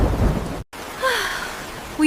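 Rain hisses steadily while a low rumble of thunder rolls underneath, heard only briefly.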